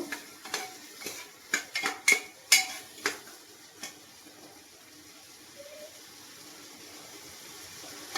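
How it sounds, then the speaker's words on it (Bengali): A utensil clinks and scrapes against a metal pot in a quick burst of strokes, mixing spices for chicken stew, then stops, leaving a quiet background hiss. "একটু দিয়ে একটু সুন্দর করে মিক্স করে নেব"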